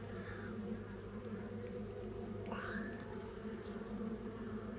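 A steady, close buzzing hum of many honey bees at an opened hive during an inspection fills the space, with a few individual bees droning past louder.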